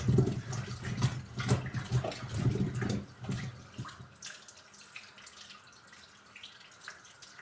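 Tap water runs and splashes over potatoes being washed in a sink, loud and busy for about four seconds before settling into a faint, quieter trickle.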